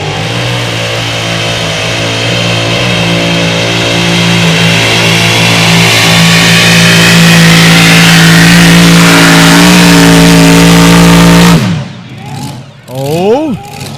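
A mini modified tractor pulling a heavy sled, its engine roaring loud and sustained through the whole pull, rising slightly before cutting off abruptly; an announcer and crowd are heard as it ends.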